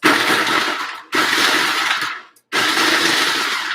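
Food processor chopping carrots, a loud whirring blade roar in three bursts separated by short pauses, with no talking.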